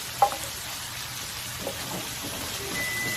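Shrimp fry in a pan with a soft, steady sizzle and crackle, and a single sharp clink near the start; no one speaks.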